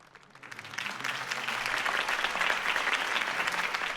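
Applause for Harvey Dent's campaign speech in the Batman Telltale video game starts faint, then swells within a second into a full, steady ovation from a large crowd that holds strong to the end.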